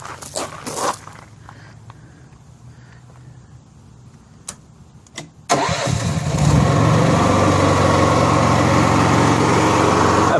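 Honda gas-powered arc welder generator starting up after fuel system restoration: a few clunks and handling sounds, then the engine catches abruptly and settles into a loud, steady running roar.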